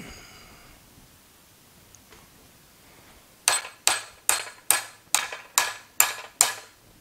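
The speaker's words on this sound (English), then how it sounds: "we'll put the hammered rod in the vise up to the 1-inch mark and tighten the shit out of it." A bench vise is tightened on a hammered bronze rod: after near silence come eight evenly spaced, loud, ringing metallic strikes, each decaying quickly, in a steady rhythm over about three seconds.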